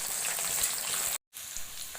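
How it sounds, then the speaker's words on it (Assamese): Onions, green chillies and whole cumin fry in oil in a wok, giving a dense, even sizzle like light rain with a brief silent gap midway. "এইখিনি এতিয়া মই কিছু সময় ভাজি থাকিম। মোৰ পিঁয়াজখিনি ভজা হৈছে।"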